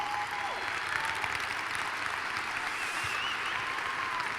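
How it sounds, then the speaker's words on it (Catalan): A concert audience applauds at a music show put on by a conservatory, a steady, full wash of clapping that holds evenly from start to finish. "Un fort aplaudiment."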